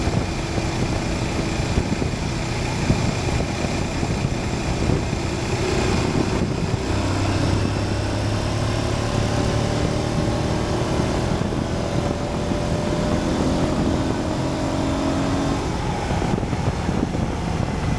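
An Aprilia Tuareg 660 motorcycle cruises in sixth gear at around 45 to 50 mph, with a steady, continuous engine drone and a rising and falling whine under heavy wind rush from start to finish.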